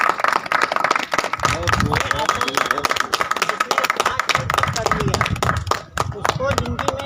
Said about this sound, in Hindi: जोरदार तालियां धर्मेंद्र के लिए